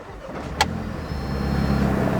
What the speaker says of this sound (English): because you have to crank the starter